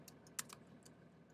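A few quick keystrokes on a computer keyboard as a command is typed, soft and close, a short irregular burst of clicks in a quiet room.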